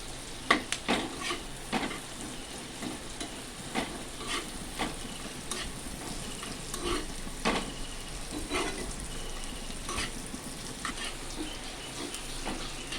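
Onions browning in a pan for a Bengali egg curry sizzle steadily, with scattered sharp clicks and scrapes of a spoon stirring through them, moderately close and without talk.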